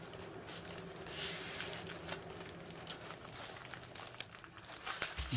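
Baking paper crinkles and rustles continuously as a warm Swiss roll sponge is rolled up inside it, close and alone with soft crumpling and occasional sharper crackles.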